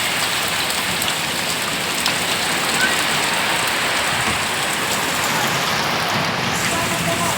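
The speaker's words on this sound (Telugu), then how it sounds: "చూసారా ఫ్రెండ్స్ వర్షం వాటర్లాగా ఎలా పడిపోతుందో చూడండి" Heavy rain pouring down steadily in Andhra, a dense, continuous roar of water hitting surfaces, loud and unbroken throughout with no clear voices.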